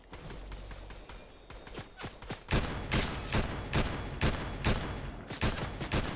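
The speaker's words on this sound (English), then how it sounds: "Somebody's shooting at me from behind." Gunfire in a Fortnite Zero Build squads match, starting with scattered single shots and then a rapid series of loud, evenly spaced bursts, close and dominant with no talking.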